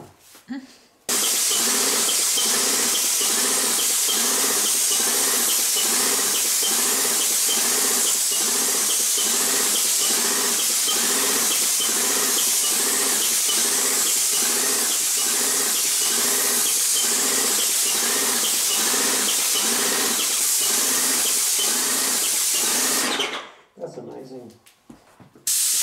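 Wagner Control Pro 250 M paint sprayer running steadily and loudly with a fast, even pulsing hiss, like a mechanical beat, for over twenty seconds before abruptly cutting off.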